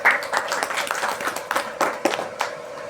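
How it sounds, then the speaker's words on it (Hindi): Applause at a weekly meeting in Dehradun, with a small group clapping in uneven, separate bursts over a few seconds while someone speaks faintly underneath. "मैं एक बार जोरदार तालियां चाहूँगा"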